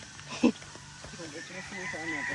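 A rooster crows in a farmyard, with a sharp call near the start and more calls trailing off behind a person talking.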